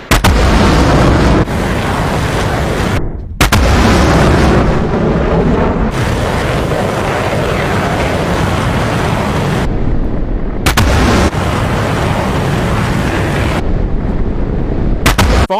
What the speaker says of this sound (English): there's hundreds of missiles in the air right now